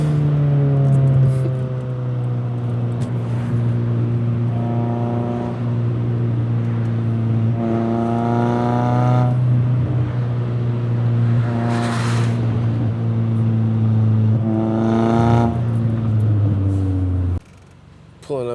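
Car driving along with a steady low engine drone and harmonic whine that rises and falls through gear changes, fairly loud and continuous, with a brief cut near the end.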